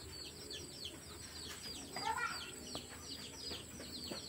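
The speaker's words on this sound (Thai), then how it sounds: "นี่คือลูกไก่ป่าครับ" Wild junglefowl chicks give faint, thin peeping calls close by against a quiet rural background.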